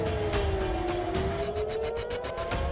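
A wailing air raid siren holds a steady drawn-out tone, slowly rising and falling, heard from a distance over constant background noise during missile attacks in Israel.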